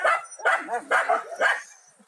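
A small dog gives a run of four or five short, whiny yips and barks in a regular rhythm, close and fairly loud, then trails off into quiet.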